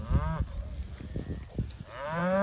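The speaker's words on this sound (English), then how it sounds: "The cattle will eat in this paddock here that they're in right now" Cattle grazing in a paddock under high stock density, several close, loud moos rising and falling one after another, with quieter lowing between calls.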